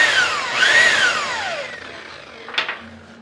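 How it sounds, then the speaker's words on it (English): A polishing wheel buffs a stainless steel exhaust for a 1932 Ford, giving a loud whirring whine that dips and rises in pitch as the part presses against it, then ends in a brief scraping burst. "This is definitely easier to do on the polishing wheel."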